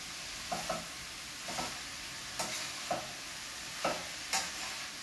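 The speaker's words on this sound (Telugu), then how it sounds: "బాగా వేగాలి, ఇది పచ్చివాసన పోయేదాకా కూడా" Ash gourd halwa fries in a steel pan with a soft, low sizzle, while about six evenly spaced scraping stirs come through clearly up close; nobody speaks.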